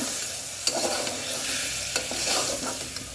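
Mutton sizzles in a hot pan while being stirred, with a constant frying hiss broken by a few spatula knocks and scrapes.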